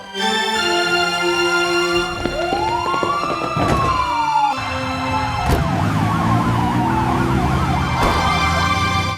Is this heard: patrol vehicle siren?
yes